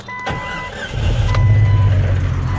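An SJ Jeep engine cranking over and catching, then settling into a steady, loud running rumble, preceded by a couple of faint electronic beeps.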